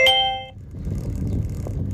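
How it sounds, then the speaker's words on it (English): The Kakao Map bike navigation app plays a short bright chime on a trail ride. The single ringing tone fades within half a second into rumbling outdoor noise. "that chiming sound let me know that I'm back on the trail"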